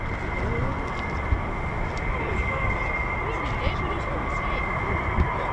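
An F-15 fighter jet flying near the RAF Lakenheath air base, heard as a steady broad engine roar at moderate distance, with someone talking over it.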